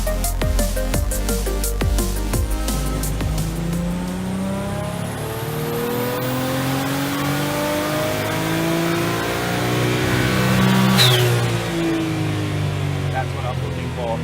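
A high-power tuned car engine on a dyno revs hard through repeated rising sweeps, loud and close, with rapid pops at the start and a peak near the end, while people talk over it.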